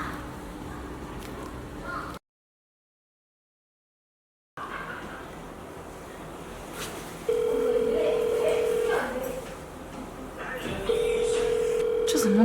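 A telephone call rings out unanswered, repeated steady electronic ringback tones sounding faintly over a quiet room with faint background noise after a short silence.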